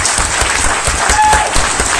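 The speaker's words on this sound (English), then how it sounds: "You deserve every round of applause." Loud, close applause from people at a town commissioners meeting recognizing school principals, dense steady clapping throughout.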